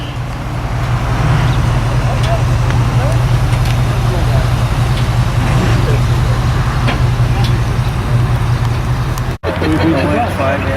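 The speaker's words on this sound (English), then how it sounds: "Here comes the bus" A bus arrives with a loud, steady engine rumble and road noise at a gathering spot for an amateur radio club trip, while people chat in the background throughout.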